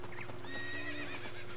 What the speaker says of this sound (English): Well, the horses all seem to be here, albeit grown up.